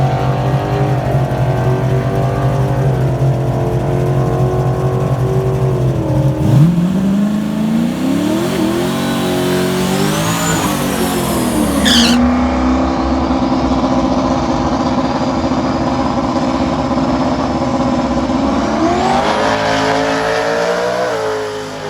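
A twin-turbo Saleen car makes a drag strip pass, its engine roaring loudly and continuously with rising revs, gear changes and spitting, sputtering, heard close throughout.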